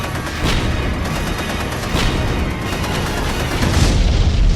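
Toy cannons fire in a plush toy battle, with repeated deep booms rolling into one another over a dense, noisy wash of blasts that continues for several seconds without talk.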